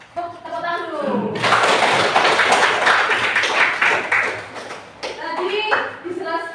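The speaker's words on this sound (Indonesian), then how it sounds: "Tepuk tangan dulu." A school class gives a round of applause, dense clapping that swells for several seconds between stretches of a teacher and children talking.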